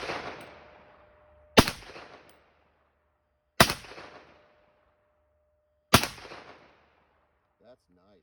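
Three loud, sharp gunshots from a .30 Carbine rifle ring out about two seconds apart, each with a short decaying echo, and a brief faint voice follows at the end.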